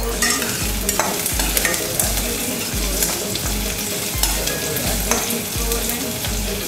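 Onions frying in a pan for an Agri Koli dal mundi and bheja fry, with a loud continuous sizzle and regular rhythmic stirring scrapes from up close.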